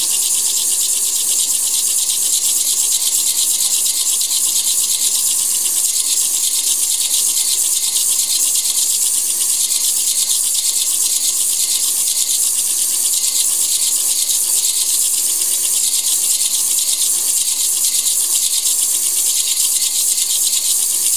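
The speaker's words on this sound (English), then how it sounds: "Just a light grinding." Faceting machine lightly grinding a garden rock, a steady, even abrasive hiss and rasp that runs unbroken and fairly loud for the whole stretch, with no talking.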